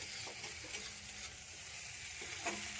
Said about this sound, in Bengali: আদাটাকে আমি একটু হালকা করে ভেজে নিচ্ছি